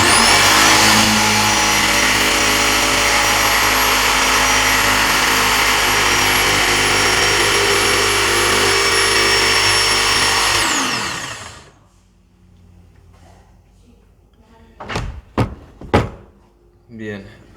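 An electric jigsaw cuts along curves through a clamped wooden piece, a loud continuous buzzing drone for about ten seconds before it winds down, followed by quieter handling knocks.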